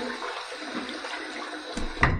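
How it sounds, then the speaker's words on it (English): Tap water runs and splashes in a sink as a face is wetted before shaving, a steady close rush for about two seconds ending in a brief louder splash. "Let me wet the face one more time."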